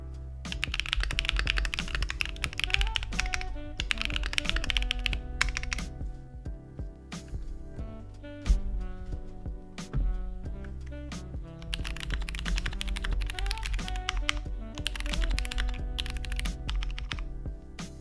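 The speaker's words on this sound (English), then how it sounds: "I'll just do a typing test here so you can hear what it sounds like" Clicky Keychron mechanical keyboard typing, rapid bursts of keystrokes with brief pauses between runs, close and crisp, no voices.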